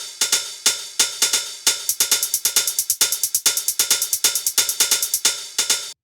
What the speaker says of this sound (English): then the last percussion layer is this 909 hi-hat, which sounds like this.